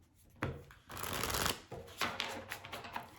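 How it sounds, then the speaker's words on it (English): Tarot cards riffled and shuffled by hand in several quick bursts, then drawn, with crisp papery flutters and taps at close range and no speech. "The card just flipped."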